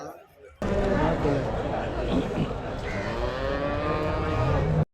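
Cows moo in long, drawn-out calls close by while several people talk and chatter around them at a busy outdoor cattle market in Erode, India.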